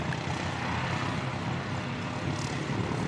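A small aircraft on the runway at Christchurch Airport gives off a faint, distant, steady engine drone with a low rumble, unchanging and without speech.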